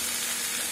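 Mint leaves frying in a pan give a steady, close sizzling hiss that holds evenly throughout, with no voices over it.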